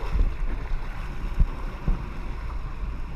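A gust of wind buffets the microphone while out on a boat on the water, a steady low rumble with a few louder thumps of wind and faint lapping water underneath, no voices.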